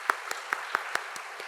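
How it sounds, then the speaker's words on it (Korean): Church congregation at a Sunday service claps to welcome new members: about seven sharp, evenly spaced claps in a short, fairly soft burst. "박수로 환영하도록 하겠습니다."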